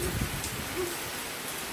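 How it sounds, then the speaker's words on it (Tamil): Heavy rain begins to fall, a dense, steady hiss of drops filling the background at moderate loudness, with a few soft low thumps early on and no talking. "நல்ல மழை பெய்ய ஆரம்பிச்சிச்சு."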